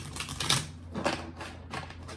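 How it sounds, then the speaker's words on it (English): Tarot cards riffle and shuffle in quick bursts, three or four crisp flurries close by, with short pauses between them. "Shuffle one last time."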